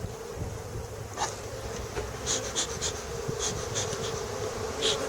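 Bees buzz steadily around beehives in an outdoor apiary, a dense continuous hum with individual insects passing close now and then.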